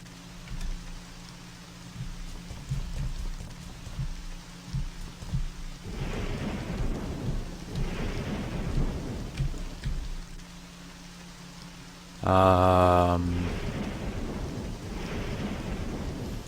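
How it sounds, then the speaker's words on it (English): Steady rain pours with low rolling thunder in a thunderstorm scene from the video game Trilby's Notes, continuous and full, with a louder tonal burst near the end before the rain settles again. "Storm continued outside."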